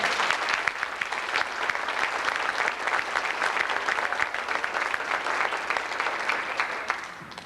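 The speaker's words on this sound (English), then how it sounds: "please have a round of applause for all those people" Audience applause at an evening student ceremony, loud, continuous clapping from a large crowd close by, sustained and fairly even before fading slightly at the end.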